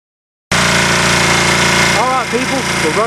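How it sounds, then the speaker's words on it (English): A generator running on wood gas starts up abruptly after a brief silence and keeps up a loud, steady engine drone, with a voice speaking over it in the second half. "we're running off wood gas. Got the generator hooked up. It cranked right up."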